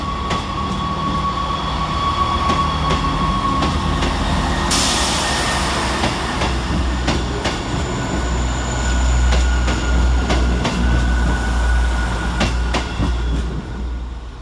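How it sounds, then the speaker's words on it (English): Class 158 diesel units 158847 and 158813 pull out of Sheffield station toward Liverpool Lime Street with a loud, steady engine rumble and rail clatter. A sharp hiss or squeal cuts in partway through, and no voices are heard. "departing the other way, heading for Liverpool Lime Street, is 158847"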